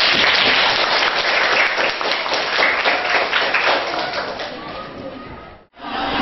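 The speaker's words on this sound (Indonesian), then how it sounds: "tepuk tangan" High school students clapping their hands together in an economics classroom lesson: loud, dense group clapping with scattered taps that fades near the end before a short cutoff.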